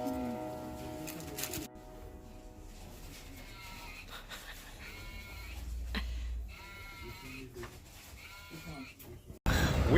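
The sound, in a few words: sheep bleating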